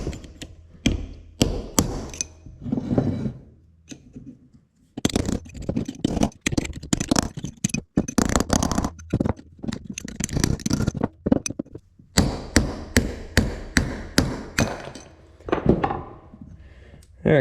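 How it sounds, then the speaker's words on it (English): A punch is hammered against a stuck front wheel bearing on a 2002 Yamaha Kodiak 400 ATV, giving loud, close metallic taps in rapid bursts separated by short pauses. "you kind of got to get a punch down in there and keep kind of tapping back and forth to try to get that out of there"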